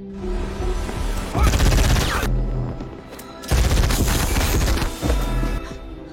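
Bursts of rapid gunfire from a film ring out in two loud volleys over tense cinematic background sound, with low rumbling booms between them.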